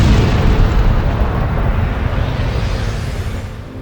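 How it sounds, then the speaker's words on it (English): Sound effect of a nearby star exploding and sending out a shockwave: a loud, deep, rumbling roar that stays steady for a few seconds and then slowly fades. "a star nearby exploded that sent a shockwave through"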